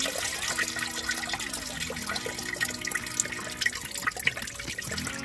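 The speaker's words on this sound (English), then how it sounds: "Look at all the water coming out of that." Water mixed with gear oil drains from a 1956 John Deere 60 tractor, a continuous close splashing trickle with brief louder gurgles, heard alone without talk.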